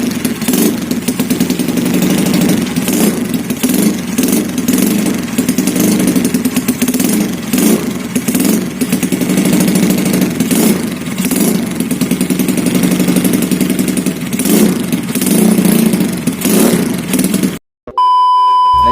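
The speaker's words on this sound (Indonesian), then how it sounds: "Jadi kalian bisa dengar nanti cek soundnya kayak gimana." Modified Yamaha Mio Soul MX scooter in Thailand-style racing spec, its engine loud and close, idling and revving continuously in repeated bursts before cutting off abruptly at the end.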